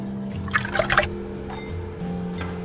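Pork ribs with ginger slices, scallion pieces and cooking wine in a pot of water, with a short burst of splashing and sloshing liquid over a steady low background hum.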